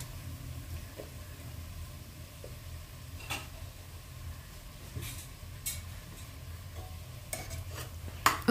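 Potatoes and eggplant frying in a pan for spicy aloo baingan, with a low continuous sizzle and occasional spoon scrapes and clinks as the mix is stirred, fairly quiet and free of talk.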